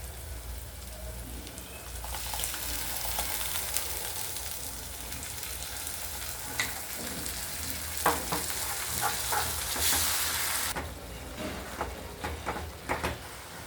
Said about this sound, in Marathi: आता आपण ही जी टोमॅटो पेस्ट केलेली आहे ती आता आपण फोडणीमध्ये टाकून घेऊयात